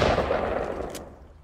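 Gunfire in the video game Fortnite: a dense burst of shots fills the first second, then fades into a quieter tail, with no talk over it.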